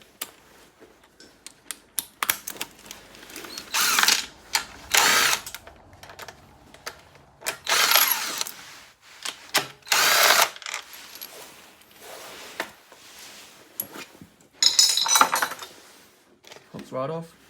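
A power drill boring a hole for an external breather catch can on a Harley-Davidson Twin Cam 96, in short, loud bursts separated by pauses, with clinks of tools and some talk between.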